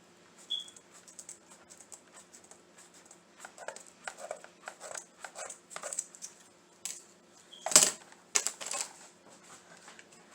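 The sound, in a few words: cutting craft material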